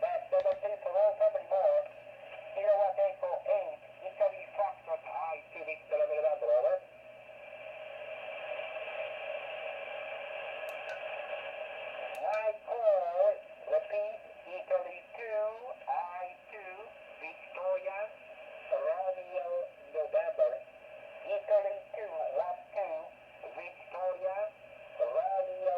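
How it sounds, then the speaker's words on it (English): A Radioddity QR20 radio plays a station from Italy through its small loudspeaker, with a distant voice talking in bursts over a steady band-limited hiss and a brief stretch of plain carrier tone. "This is a station over in Italy."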